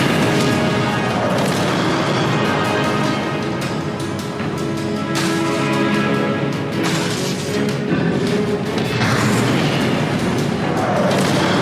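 Loud, continuous barrage of booming fire-spell blasts and crashing impacts from Confringo casting in the Hogwarts Legacy game on PS4, with dense repeated bursts and no pause throughout.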